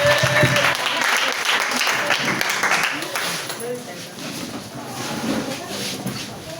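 A church congregation applauds and cheers for Jesus, steady clapping filling the room at first and slowly thinning, with a voice speaking over it throughout.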